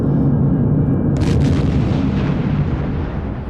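Explosions in the Silent Hunter 4 submarine warfare game, one continuous loud roaring blast with a sharp crack just after one second, rumbling on and slowly fading toward the end.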